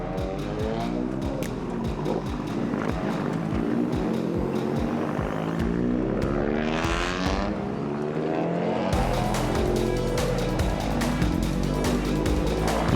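Toyota Gazoo Racing GR Cup race cars circling a track, loud continuous engine roar with repeated passes and a brief lull before the noise surges back, sustained throughout.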